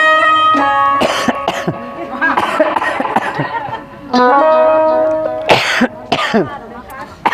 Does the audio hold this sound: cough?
yes